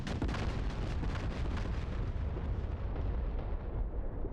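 A bridge struck by GPS-guided HIMARS rockets in DCS World, heard as a loud, sustained roaring blast rumble that slowly fades, with no voices.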